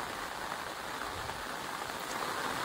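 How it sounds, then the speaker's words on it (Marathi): Heavy monsoon rain pours down in a Konkan village, a dense, steady hiss of drops drumming on surfaces, close and unbroken throughout, with no talking. "तर मित्रांनो खूप जोराचा पाऊस आलाय."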